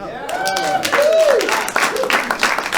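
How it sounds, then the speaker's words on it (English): An audience at a Valentine's comedy show claps and cheers, rising into a busy burst of applause. A voice carries over the top throughout. "clap if you still love rock and roll"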